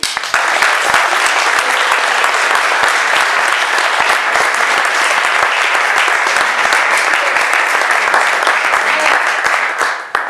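Sustained, dense applause from an audience at a scientific excellence awards ceremony, loud and steady for about ten seconds with no speech over it.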